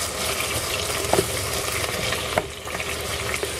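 Beef stew ingredients being mashed down in a cooking pot, with a steady sizzling frying bed and a few sharp scraping and clacking hits from the masher against the pot, close and continuous with no talking.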